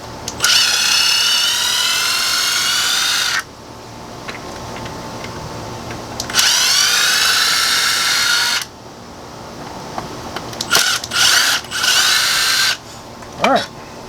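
A power drill backs screws out of an electrical box in a few long whirring runs, each starting with a rising whine and holding steady, loud and close, with short clicks and handling noises between bursts and someone speaking.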